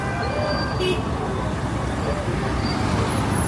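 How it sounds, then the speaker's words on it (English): Dense, steady roadway noise on a busy city street in Benin City, Nigeria, with vehicles rushing past close by and a brief horn toot, under faint talk. "The cars are literally speeding up."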